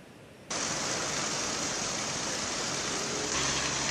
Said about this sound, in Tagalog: maghapon pa ring malakas ang buhos ng ulan sa ilang bayan dito sa probinsya ng Ilocos Norte.